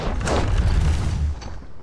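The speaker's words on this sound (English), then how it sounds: "You can fire off the siege boulder and the demon fire." A trebuchet in the video game Conan Exiles launches a siege boulder with a loud, rumbling boom that holds for over a second before fading, with no voices.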